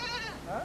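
A goat carried along by soldiers in the desert bleats once, a short wavering nasal cry heard fairly close with some background noise.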